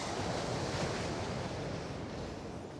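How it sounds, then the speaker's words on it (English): Surf rolls continuously onto a snowy beach at Coney Island, Brooklyn, a steady wash of waves mixed with rumbling wind noise on the microphone, moderately loud, with no voices. "Yeah, the waves seem to be picking up."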